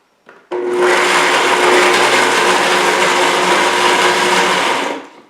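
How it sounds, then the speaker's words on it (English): A high-speed blender blending walnuts roars steadily for about five seconds after a brief start, loud and close, with a whining motor hum that winds down at the end. "we just run that on our high-speed blender"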